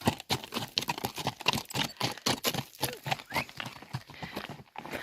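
Horse hooves clip-clop on the Camino Francés pilgrimage route in Spain, a steady, close rhythm of sharp hoof strikes passing by.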